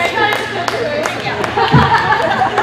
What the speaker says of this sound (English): Even gets a cheer from Team Carey.